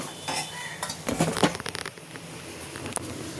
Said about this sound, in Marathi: आता हे मस्त सगळं मिक्स करून घेऊ